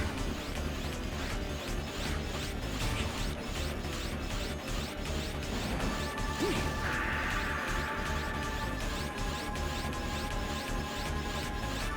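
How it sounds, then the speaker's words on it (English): Repeated hard metallic whacks and swishes from a recoil rod striking a flipping boss in Mega Man Zero 3's Energy Facility stage, steady and dense over game music and effects, with a sustained tone entering midway. "we just want to hit it with the recoil rod after each time it flips"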